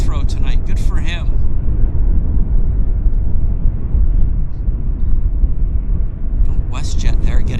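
A WestJet airliner roars steadily through its takeoff at Vancouver Airport, a loud, sustained low rumble filling the scene from start to finish, with people talking over it at the beginning and end.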